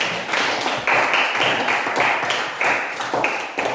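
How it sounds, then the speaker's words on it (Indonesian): Classroom students clap their hands together in a lively burst of applause, with the broadband clatter pulsing in uneven waves and no talking over it. "Tepuk tangan."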